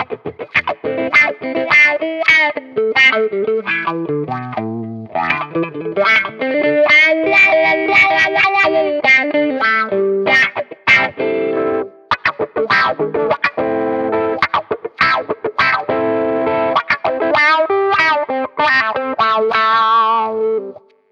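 An electric guitar played through a Valeton GP-5 with a wah pedal gives a distorted, effect-laden tone, with phrases of notes and chords whose sweeping wah filter rises and falls over about twenty seconds.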